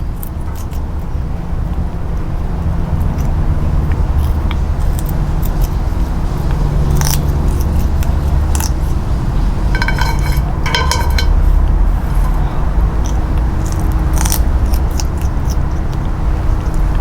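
A pet crunches on fresh alfalfa sprouts close up, with bursts of crisp crackling bites standing out over a steady background rumble.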